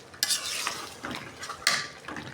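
A spoon scrapes and stirs through braising meat in a pot, a few rhythmic close strokes over a soft sizzle, with clinks against the metal and no talk.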